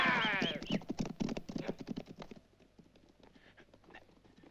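Horses' hooves clip-clop in a quick irregular patter along a trail, loud and close at first and then softer and more distant, with a voice speaking over the start.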